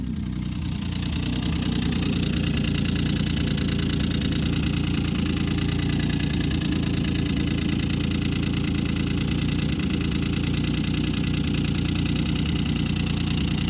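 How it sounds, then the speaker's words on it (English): A 1995 Plymouth Voyager's 3.0 V6 engine idles steadily and roughly, with a low, continuous rumble and an uneven ticking pulse running throughout. "But that engine's making noise."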